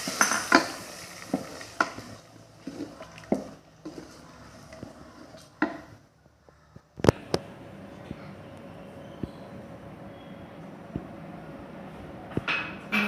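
Tempering (thalippu) for beef curry is fried and stirred in a pan: a run of scraping and clattering utensil knocks, a brief lull, then a sharp clank and softer sizzling with occasional taps.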